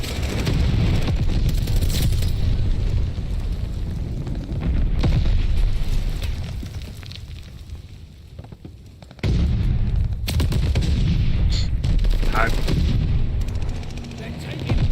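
A Welgun submachine gun fires from the hip in a video game, dense bursts of gunfire and booming blasts filling the scene with brief lulls between volleys, loud and close, a voice speaking over parts of it.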